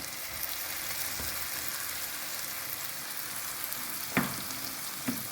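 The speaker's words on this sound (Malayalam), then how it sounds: "നമുക്ക് അടിച്ചു വെച്ച പേസ്റ്റ് ഇതിലോട്ട് ചേർക്കാം" Ground paste sizzling in a pan for egg perattu, a steady soft frying hiss with a couple of brief louder spatters near the end.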